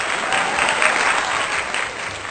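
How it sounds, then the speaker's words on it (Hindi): Loud, steady audience applause for a poet from Kanpur at a Hindi poetry gathering, a dense continuous clatter of many hands lasting throughout with no voices over it. "जोरदार तालियां सुरेश साहनी जी के"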